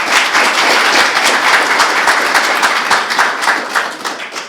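A live podcast audience bursts into dense, loud applause, many hands clapping close and steady before gradually thinning toward the end.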